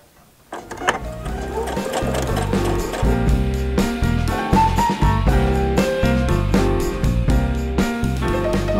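A domestic sewing machine runs a straight stitch along a sleeve seam with a 1 cm seam allowance, whirring steadily and close up with a quick mechanical rhythm after a short start.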